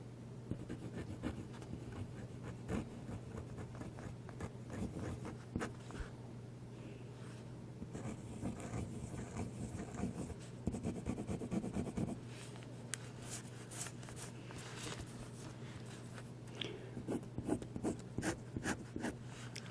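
A Monteverde Giant Sequoia fountain pen scratching and rubbing across paper in short strokes and bursts, close and quiet over a steady low hum.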